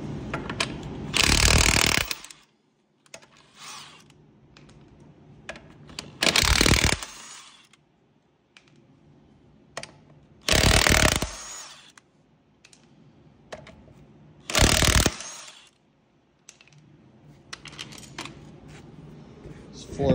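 An impact tool fires several short, loud bursts about every four seconds while taking lug bolts off a truck wheel, with quiet handling noises between the bursts.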